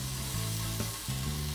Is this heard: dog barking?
no